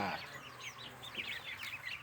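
A crowd of two-week-old Yiliang ducklings being sorted as future breeders peeps constantly, overlapping high chirps forming a busy, close chorus over a low background rumble.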